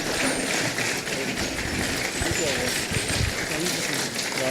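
An audience in a college lecture hall claps for a professor, producing dense, even applause that carries on for several seconds with voices faintly mixed in.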